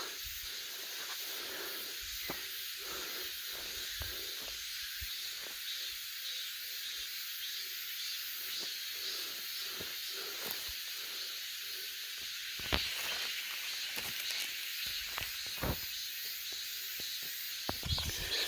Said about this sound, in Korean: 아, 매미 소리,